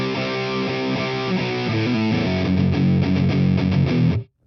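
Heavily distorted electric guitar plays a thrash metal riff at a slow tempo, a dense stream of picked notes that runs steadily and loud before cutting off abruptly near the end.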